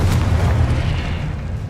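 Confringo fire spell blast in the Hogwarts Legacy video game, a heavy low rumbling boom with a whooshing burst that sustains briefly and trails off, loud and near.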